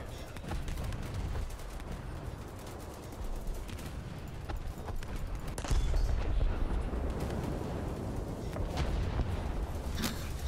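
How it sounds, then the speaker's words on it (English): Battleship 15cm cannons firing in the game War Thunder during a battle against a swarm of patrol boats, dense overlapping gunfire and booms with sharp reports standing out, loud and continuous, no talk. "Switch from the 15cm cannons to your melee options."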